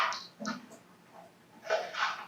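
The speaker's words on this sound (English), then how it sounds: "I got a dog." A dog inside a building during a sheriff's office search gives rough, breathy growls and snorts in short bursts at the start and again near the end, moderately close.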